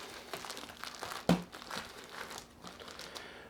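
A Ziploc bag holding chicken wing marinade crinkles and crackles as it is squeezed and mixed by hand, close up and fairly quiet, with one sharper crunch midway and steady plastic rustling throughout.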